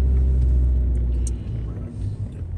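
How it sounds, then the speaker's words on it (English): Car climbing a steep street in San Francisco, with heavy low engine and road rumble that is loud and steady at first, then eases slightly and continues unbroken. "We're gonna drive towards the bridge."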